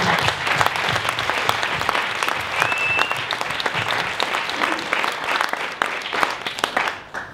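Audience applause at a corporate event promoting Ganoderma coffee: dense, steady clapping from a sizeable crowd that holds for several seconds at full strength, then tapers off near the end.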